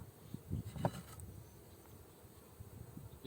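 Honey bees hum faintly inside a beehive, a soft continuous buzz with a few muffled knocks near the start, and no voices.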